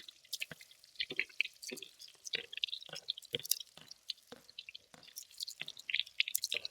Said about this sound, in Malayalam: ചൂടായിട്ട് ഇനി നമുക്ക് ഇതിലേക്ക് ചെറുള്ളി ഇട്ട് കൊടുക്കാം